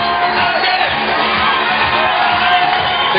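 Spectators at a men's bouldering World Cup final in Vienna cheer and whoop loudly and continuously as climber Kilian lines up for the final hold.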